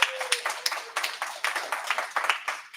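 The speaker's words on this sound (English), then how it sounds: "I'd like to have a round of applause for Andre, who did a lot of the work for this workshop" Workshop audience applauding together, a dense run of many hands clapping at close to moderate distance that holds steady throughout with no talk over it.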